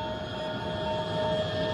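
A jet airliner drones steadily with a constant engine roar and a high whine, sounding alone without any voices.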